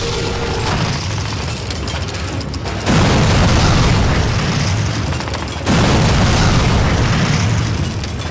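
Bomb blasts in the World War II shooter Call of Duty from 2003, heavy rumbling booms that swell and hold as two loud waves of explosion noise, with no talking.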